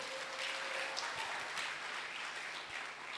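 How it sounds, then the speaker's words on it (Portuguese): A church congregation claps for Jesus during a Sunday service, a soft, distant, continuous patter of many hands with a faint tone and low thumps underneath. "Posso ver um salva de palmas para Jesus?"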